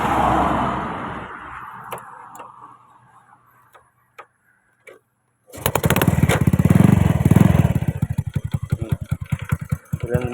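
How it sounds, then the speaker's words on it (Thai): A Honda Wave 100 motorcycle fitted with a sidecar starts and then idles nearby with a loud, steady, rapid putter, after a quieter stretch of faint clicks and handling sounds. "เวฟร้อยยูบ็อกพร้อมติดซาเล้งนะครับ ติดซาเล้งให้สวยๆนะครับ ฟังเสียงเครื่องครับ"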